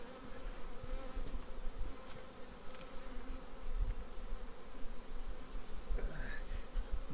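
Honeybees buzzing steadily around hive frames as they are shaken off, a dense continuous hum with scattered nearby wingbeats, fairly quiet, no voices.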